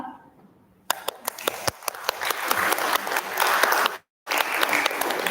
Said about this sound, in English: Let's give another round of applause for the participants.